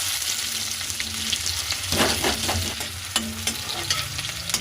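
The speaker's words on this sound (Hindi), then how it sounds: "गरम हो गया, इसमें डाल दूँगी जीरा।" Cumin seeds hit hot oil in a kadai, giving a loud, crackling sizzle that swells and continues, with brief utensil scrapes and clicks over the frying.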